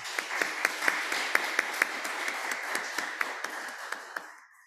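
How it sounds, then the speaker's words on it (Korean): A church congregation claps in welcome, a dense, even patter of many hands with a few sharper nearby claps standing out, fading away at the close. "우리 박수로 서로를 환영했으면 좋겠습니다"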